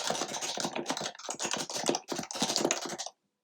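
Rapid, close typing on a Happy Hacking Professional mechanical keyboard with blank keycaps, set up for a Mac. The keystrokes come in dense bursts of crisp clicks separated by brief pauses, then stop.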